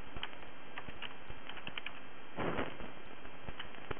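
Quiet clicking of a computer keyboard being typed on, a handful of light, irregular keystrokes with a brief denser flurry, close and alone.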